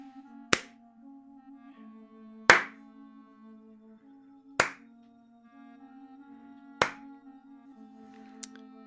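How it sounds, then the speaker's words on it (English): Slow, weak but deliberate clapping echoes out of a tunnel into a cavern: five single claps spaced about two seconds apart, each ringing briefly, over a low steady hum. "sound of slow, weak, but deliberate clapping coming from the tunnel that you all had come from that led into this cavern."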